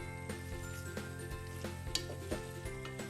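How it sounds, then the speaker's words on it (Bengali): Cauliflower frying with spices in a pan on a raised flame gives a steady close sizzle, with a few stirring knocks against the pan, and nobody talks. "মশলার সাথে একটু ফুলকপিটাকে কষিয়ে নেব"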